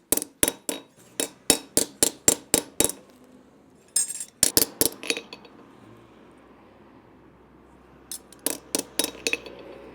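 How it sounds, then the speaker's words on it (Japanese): A bent knife blade being hammered straight during forging: quick runs of sharp metallic strikes, about ten in a rapid rhythm, then a short burst of blows and a final cluster after a quiet pause, with no talking. "曲がってるとこ力加減しながら叩いてあげて"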